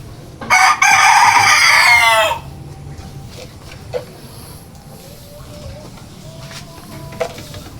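A healthy Elba breed rooster lets out one loud, close crow lasting about two seconds, then the scene quiets to faint clucks and scattered small sounds from the coop.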